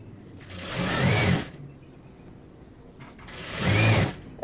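Two short bursts of sewing-machine stitching, each about a second long, whir close by with a quiet pause between as a folded one-inch chudidar sleeve hem is sewn.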